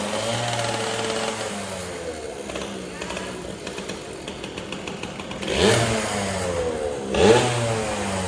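A Yamaha PW80 dirt bike engine idles steadily during a tune-up, with two short revs rising toward the end, close and fairly loud.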